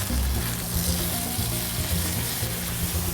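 Clams and mussels frying in hot canola oil, a loud close steady sizzle with faint stirring, no talk.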